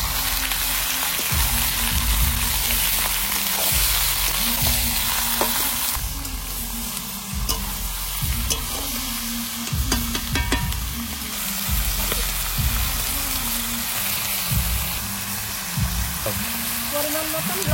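Country red rooster meat sizzles loudly in a pan with browned fried onions, a steady close frying hiss with repeated scraping stirs throughout.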